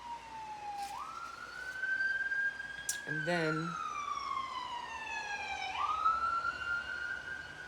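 A wailing siren sweeps up and down in pitch, loud and steady, with a brief voice speaking partway through.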